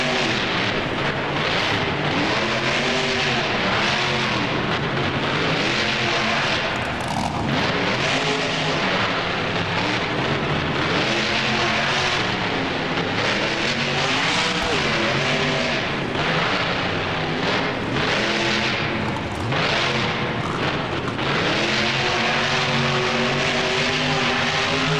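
A monster truck in BeamNG races at full speed around a stadium freestyle course and launches off a dirt jump, its engine roaring loud and continuous with rising and falling revs throughout and no voices.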